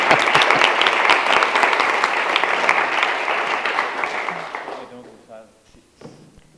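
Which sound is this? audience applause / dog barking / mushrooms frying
audience applause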